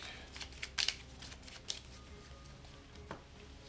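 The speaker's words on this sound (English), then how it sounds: "let me shuffle up the AI cards real quick" Kingdom Death Monster AI cards being shuffled at a tabletop game, a soft papery riffle with a few sharper snaps, fairly quiet and alone.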